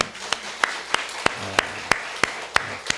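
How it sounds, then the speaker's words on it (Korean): A church congregation at a Friday prayer meeting gives rhythmic applause, about ten sharp, evenly spaced claps in three seconds, moderately loud in a reverberant hall. "그 하나님께 감사의 박수 다시 한번."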